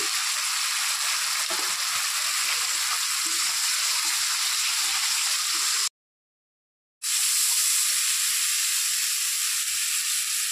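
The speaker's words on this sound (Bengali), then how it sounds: "মশলাটাকে ভালো করে কষিয়ে নিতে হবে" Spice paste salted and stirred in a hot pan for a fish curry with ridge gourd sizzles loudly and steadily, a constant frying hiss broken by one brief silent gap.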